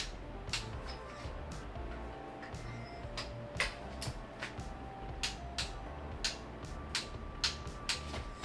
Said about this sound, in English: So we'll go ahead and torque it down right now.